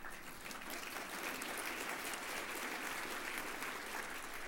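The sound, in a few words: audience applause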